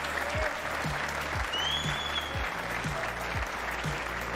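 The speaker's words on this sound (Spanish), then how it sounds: "Un aplauso muy fuerte. Grandísimo este aplauso se merece." Steady audience applause at a livestreamed MMA-style amateur fighting tournament event, a dense continuous wash of clapping from a crowd, even and sustained throughout with a faint low rhythmic thumping underneath.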